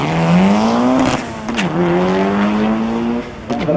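A drag race car makes a hard launch down the strip at Tarlton Raceway. The loud engine scream climbs in pitch through quick gear shifts, holds close and intense, then eases off.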